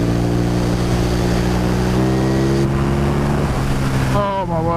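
A KTM Super Duke motorcycle engine pulls hard under acceleration, a loud, steady roar whose pitch climbs with each gear and then sweeps up sharply near the end, with wind noise throughout.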